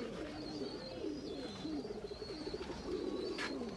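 Teddy pigeons, including a pearl-marked female and her male, cooing steadily in a loft amid a busy chorus of soft, continuous calls and low murmurs, with no talk.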